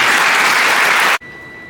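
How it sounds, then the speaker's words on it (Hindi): Loud, dense applause from an audience at a yoga and exercise session at an engineering college, sustained for about a second before cutting off abruptly into near silence. "एक बार जोरदार तालियां।"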